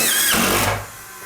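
A power drill whirs briefly while driving a screw into cement board, a short loud motor whine that winds down and stops, close by with no talk.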